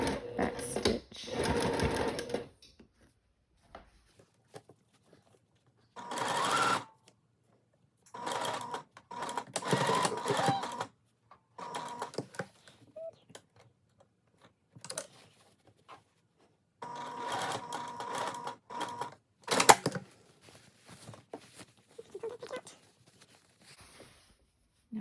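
Sewing machine back stitching seersucker fabric for a dress, several close bursts of rapid mechanical stitching broken by pauses, with no talk over them.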